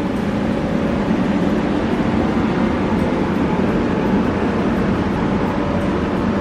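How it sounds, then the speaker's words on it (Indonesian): A steady, dense rumble of a passenger train bound for Barcelona running nearby at a station in Sant Pol de Mar, Spain, constant in loudness with no pauses. "ini dia guys, kereta yang biasanya aku pakai"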